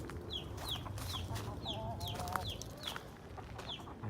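Chickens cluck repeatedly in a backyard coop area, quick bright clucks recurring at close range over a steady outdoor background, with no talk.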